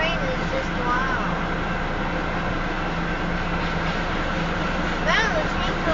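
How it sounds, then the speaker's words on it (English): A southbound Union Pacific freight train of tanker cars rolls past north of Elkhart, Iowa, a loud continuous rumble and rattle with high metallic squeals from the wheels and cars, heard close by, with voices talking faintly over it. "This train is just loud."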